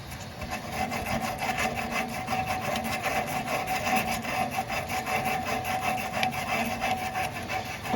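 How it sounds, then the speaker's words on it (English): Emery cloth rubbed briskly back and forth over the oily blower shaft of a mobile home furnace, a close, steady, rasping scrub with fast rhythmic strokes and no talking. "We'll get some emery cloth and clean up the top right here."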